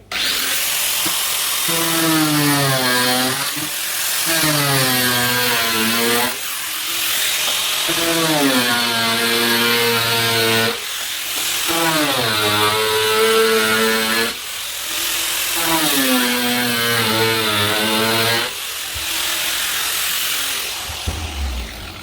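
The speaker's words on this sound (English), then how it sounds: "We're going to use a grinder, which is probably the dodgiest way to do it." An angle grinder cuts through the top of a 1000-litre plastic growout tank in several long, loud whining passes, its pitch sagging and rising under load with brief pauses between cuts.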